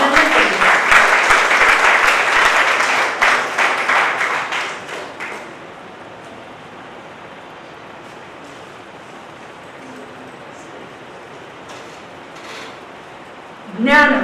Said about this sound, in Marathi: प्रवीणचे आणि कृष्णाचे जोरदार टाळ्या वाजून आपण अभिनंदन करूया